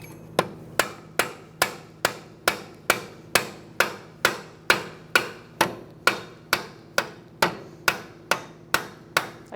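Steady hammer blows drive a seized axle out of a Kia Soul front wheel hub, about twenty sharp metallic taps in an even, regular rhythm, close and clear with no talk.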